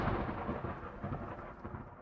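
A thunderclap rolls through in a narrated ghost story, a broad, loud rumble that starts strong and slowly fades over about two seconds, with no voice over it.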